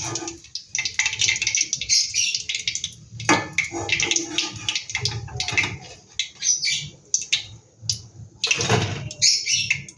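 Cauliflower pakoras fry in hot oil, a crackly, popping sizzle with bursts of spattering, close and fairly quiet, and no talking over it.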